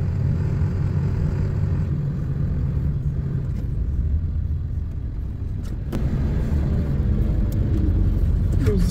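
State truck driving past on a gray winter day in a small town square, a rumbling engine and tire roar swelling and fading as it goes by, fairly close, with a few sharp clicks.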